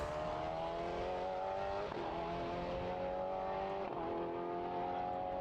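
Prototype racing car at Portimão during free practice, engine screaming at high revs with rising harmonic tones, two sharp gear-change dips, steady and fairly close, no voices.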